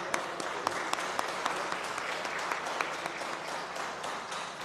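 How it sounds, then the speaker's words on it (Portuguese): Councillors at a city council session applaud an award recipient, sustained clapping from a chamber of people with crisp individual claps standing out, lasting several seconds. "receber uma salva de palmas dos vereadores e vereadoras"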